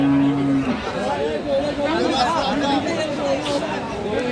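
A Sahiwal cow at the Aftabganj cattle market in Dinajpur gives a short, low moo at the start, followed by close talk and crowd chatter.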